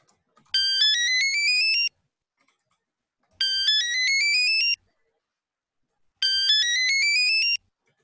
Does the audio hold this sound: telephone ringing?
yes